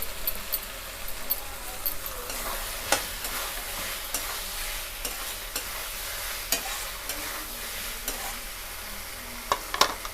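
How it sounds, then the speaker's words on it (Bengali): Pre-fried prawns stirred into a well-cooked spice masala in a hot pan, a continuous close sizzle punctuated by irregular spatula scrapes and clicks. "ঠিক এই অবস্থায় আমরা এখানে ভেজে রাখা চিংড়ি মাছগুলো দিয়ে দেবো"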